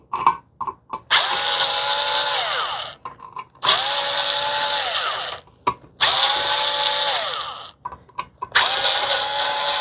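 A power drill loosens screws on the housing of a 52-inch Hampton Bay Nassau ceiling fan, whirring up in four loud bursts of a few seconds each, with short clicks and pauses between them.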